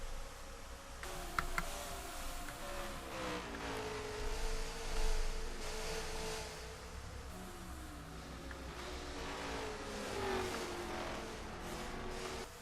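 Race car engine on a qualifying lap in Canada, a faint, distant whine rising and falling as it passes, with scattered clicks and ticks over it.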